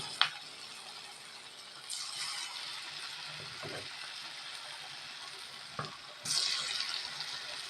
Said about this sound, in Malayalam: എണ്ണ ചൂടായതിനകത്തോട്ട് നമുക്ക് ഇതൊന്ന് ഇട്ട് കൊടുക്കാം